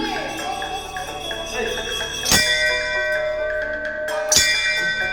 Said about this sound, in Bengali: এবার বেরোতে হবে চলো ঘন্টাটা বাজিয়ে নিই